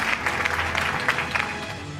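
An audience at an annual award show in Lahore claps steadily, a dense wash of applause kept at an even level through the brief stretch.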